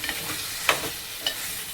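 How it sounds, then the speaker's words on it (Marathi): Onion, ginger and garlic paste being sautéed and stirred in a pan for chicken tikka biryani, a soft continuous frying hiss with two sharp scrapes of a spatula, close by and without speech. "ह्या कांदा आलं लसूण पेस्ट आपलं कांद्यामध्ये ते परतून घ्यायचं छान."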